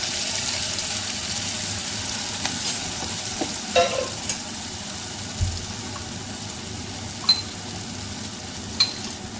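Ground masala paste for a mackerel curry frying in a pan, a soft low sizzle with occasional light knocks and scrapes of a spoon, fairly quiet and without speech.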